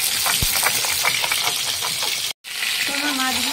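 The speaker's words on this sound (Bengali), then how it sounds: "তো আমার মাছগুলো ভেজে নিয়েছি" Fish frying in hot oil in a Bengali home kitchen, a steady close sizzle with bubbling crackle, a sharp clink early on and a short cut to silence partway through.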